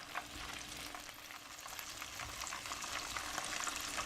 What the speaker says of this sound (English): While this is browning, I have my sauce simmering just a little bit because I want it to reduce down slightly.